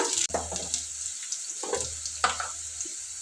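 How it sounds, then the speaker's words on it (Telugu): Sliced onions sizzle steadily in hot oil in a pan for a bean and drumstick masala curry, with a constant close frying hiss and a few stirring scrapes. "ఇట్లా వరకు ఉల్లిగడ్డ వేయించుదాము ఇట్లా"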